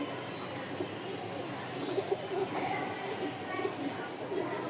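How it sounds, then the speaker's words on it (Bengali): Two pairs of pigeons coo softly in a cage at a bird sale, low repeated coos faint beneath steady background noise. "এখানে 2 জোড়া কবুতর আছে মাশাআল্লাহ"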